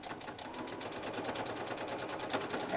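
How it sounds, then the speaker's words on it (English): Sewing machine stitching a fabric teabag holder, a fast even mechanical rattle of needle strokes running steadily from start to finish, close and moderately quiet. "I'm going to stitch along the bottom here and along the top."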